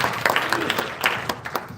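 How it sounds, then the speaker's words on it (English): Brief, lively applause from an audience welcoming presenters at a livestreamed event on protecting the Earth and fire safety, heard as a quick run of close, crisp claps. "Please welcome with a big round of applause."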